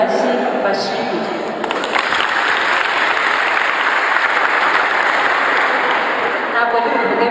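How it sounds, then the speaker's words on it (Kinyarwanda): Sustained audience applause from a crowd at a ceremony closing a training camp in Gisagara, steady and dense throughout, with a faint voice briefly audible at the start. "mubwize amashyi bashimire"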